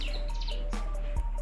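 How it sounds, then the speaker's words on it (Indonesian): A bar-winged prinia (ciblek gunung), a small songbird kept outdoors at a house front, gives a series of thin high chirps and short tweets, clear and close, with no talk. "merangsang kicauan burung ciblek gunung ini"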